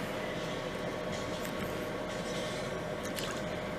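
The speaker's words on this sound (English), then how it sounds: "we gotta pour this into the cake" Cake batter pours slowly into a cake with a faint, steady squishing, liquid sound over a low background hum.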